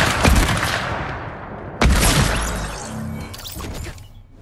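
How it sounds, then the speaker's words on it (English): Hunting rifle gunfire in the Fortnite video game, two sharp loud shots about 1.5 seconds apart, each trailing off in a long echoing decay. "He's using a hunting rifle."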